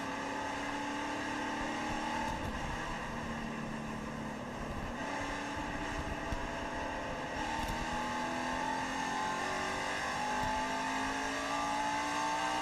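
IndyCar race car engines at a 2006 Sony HD 500 restart, a dense roar of several cars with rising revving tones building over a constant wash of noise.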